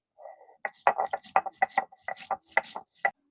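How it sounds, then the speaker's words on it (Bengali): Spices are ground on a grinding stone for a pangas fish and drumstick-leaf recipe, an uneven series of close knocking and scraping strokes, alone with no talking. "এবার এই মশলাপাতি বেটে নেই"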